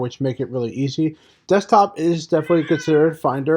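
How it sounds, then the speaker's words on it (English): A house cat meows in the background, intermittently breaking through a person's steady, close spoken narration indoors. "that's my cat in the background interrupting this podcast episode."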